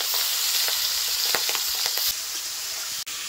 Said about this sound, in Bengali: মাছগুলো একটু ভাজা হয়ে গেছে, আমি খুব বেশি ভাজবো না